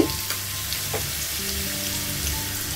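Finely grated ginger fries in hot oil for chilli chicken, a loud, even crackling sizzle that runs without pause from start to finish.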